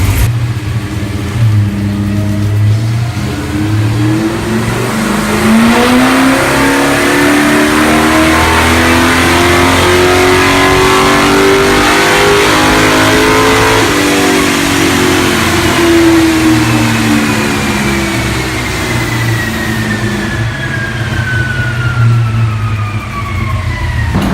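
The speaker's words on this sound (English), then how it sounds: "Tires slipping on the dyno." A 1966 Chevelle with a 408 small-block V8 revs hard on a dyno, with tires slipping on the rollers; its loud, sustained engine roar climbs and falls in pitch over about twenty seconds, and no one speaks.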